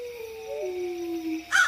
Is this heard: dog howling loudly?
yes